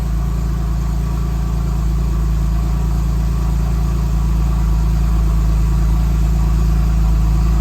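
A cold Porsche 911 engine idles steadily with a low, continuous rumble, close up and unchanging, with no voices.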